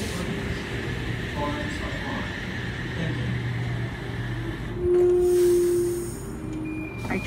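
Sydney train pulling out of Shellharbour Junction station at night, a low steady rumble with a rising motor whine and a brief tonal hum midway, heard from the platform amid faint background sounds.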